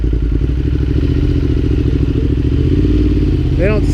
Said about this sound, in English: Which is why I'm super happy about the loud exhaust.